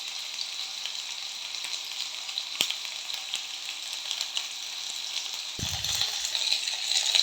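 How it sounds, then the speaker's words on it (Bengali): Vegetables for a Bengali curry with potato, sweet pumpkin and prawns frying in hot oil after the spices, giving a steady loud crackling sizzle that swells near the end. "তরকারিটা ভাজা হচ্ছে"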